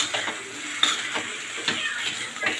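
A spoon stirring salt into poha in a pan, with soft, repeated scraping and clinking strokes at an uneven rhythm, close and fairly quiet.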